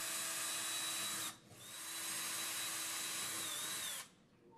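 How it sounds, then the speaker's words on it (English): A power drill whirs steadily at high speed drilling pilot holes in a wall for over a second, stops briefly, then runs again for a longer stretch before cutting off. "Then drill the holes for the fasteners using the marked holes."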